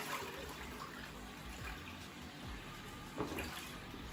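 Clay cooking pot set down into a large basin filled with water, giving soft sloshing and gentle watery swirls, quiet and close, with a small splash near the end.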